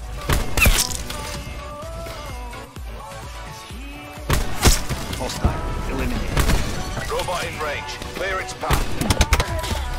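Gunfire from the video game Call of Duty Black Ops 4, with sharp shots and crashing impacts scattered through the match, under an energetic voice talking over the action.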